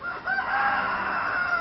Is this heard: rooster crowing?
yes